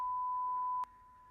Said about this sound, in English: we're going to have a beep.